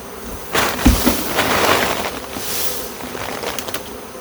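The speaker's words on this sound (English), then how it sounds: "This is a good swarm of bees right here." Dense, steady buzzing of a honeybee swarm in wet weather, fairly close, with a few brief knocks and rustles near the start and no talking.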